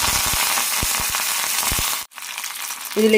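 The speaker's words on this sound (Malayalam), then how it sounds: "എണ്ണ ചൂടായിട്ടുണ്ട് ഇതിലേക്ക് കടുക് ഇടാം" Mustard seeds splutter in hot oil in a pan, giving a steady hiss broken by sharp pops. A brief gap follows, then the sizzling resumes, with no talking.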